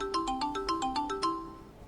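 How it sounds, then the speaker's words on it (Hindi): A phone ringtone plays a short repeating electronic melody, bright and clear, several quick notes cycling before it fades out. "सर आपका फोन आ रहा है।"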